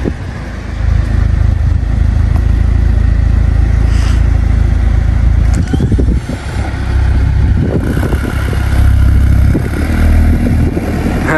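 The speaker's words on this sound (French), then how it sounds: "On va aller faire un petit démarrage" A Mercedes-AMG A45 S four-cylinder engine fires on a cold start, loud and close, with a sustained rough idle, rising revs and a few clattering bursts over a steady low rumble.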